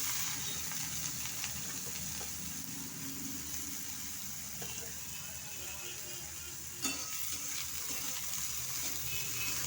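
Chopped brinjal frying with black cumin in hot oil, a soft continuous sizzle heard up close at low volume, with one brief clatter partway through and faint background noise.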